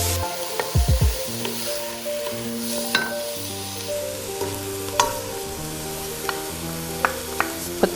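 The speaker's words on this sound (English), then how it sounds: "You can hear it sizzling." Chopped large onion sautéing in a pan for lasagna, a soft steady sizzle running beneath tonal background music, with a few sharp clatters and taps near the start.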